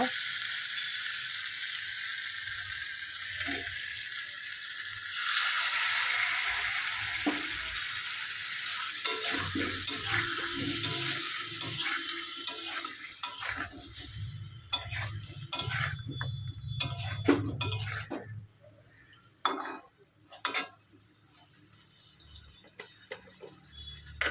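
Egg curry with potatoes cooking in a pan with a little added water, a soft bubbling sizzle under repeated scraping stirs and clicks of a spoon, close and fairly quiet, with no voices.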